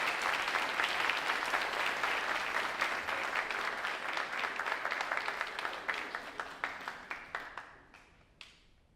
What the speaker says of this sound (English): let's give this group a round of applause as they get ready for their picture